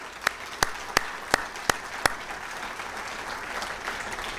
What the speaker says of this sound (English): I just like to give a round of applause of all of our trainers and our instructors that make this possible